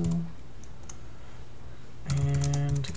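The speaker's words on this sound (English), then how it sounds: "We'll choose the second and we'll type a description." Keys clack on a computer keyboard as a task description is typed into a Google Calendar task, with light scattered taps at first and then a denser run of typing near the end.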